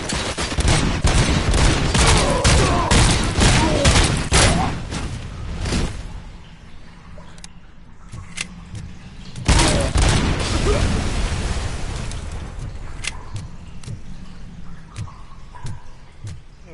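Heavy bursts of gunfire from the video game RoboCop: Rogue City, dense rapid volleys with sharp cracks, a quieter lull midway, then another loud fusillade and scattered single shots.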